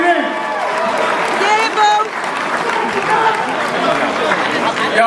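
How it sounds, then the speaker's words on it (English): Audience applause at a live debate event, a dense, steady wash of clapping lasting several seconds with raised voices and shouts mixed in over it. "Let's give Brother a round of applause."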